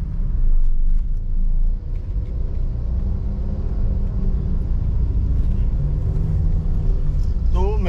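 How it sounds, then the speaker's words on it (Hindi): Heavy road traffic in a jam, with a dense continuous rumble of idling and creeping car engines, a louder swell near the start and faint horn-like tones toward the end. "यहाँ पे बहुत ट्रैफिक है, मेरे को गाड़ी निकलने को नहीं हो रहा है।"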